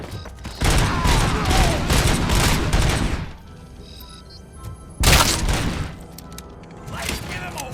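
Heavy gunfire in Robocop Rogue City comes in long, loud bursts of rapid shots, separated by a brief lull and then resuming, with voices speaking in between.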